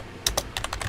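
Keyboard typing in two bursts, a pair of crisp keystrokes followed by a quicker run of four or five, close and fairly loud with no voice.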